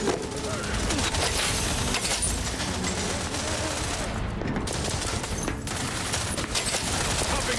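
Gunfire in The Outer Worlds 2, a steady dense fusillade of rapid shots running throughout at moderate level, with a voice speaking over parts of it.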